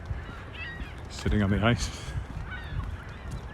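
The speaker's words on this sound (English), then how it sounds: "See the geese, or gulls, I guess." A goose gives a loud, close, rising series of honks near icy Wascana Lake in Regina in early April, amid light background noise, while someone talks before and after the calls.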